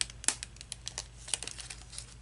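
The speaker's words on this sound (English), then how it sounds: "You peel that protective paper back." Protective paper backing being peeled off a diamond painting gives brief, close crinkling and crackling, with a few sharper ticks scattered through a short stretch.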